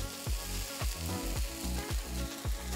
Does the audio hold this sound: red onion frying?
yes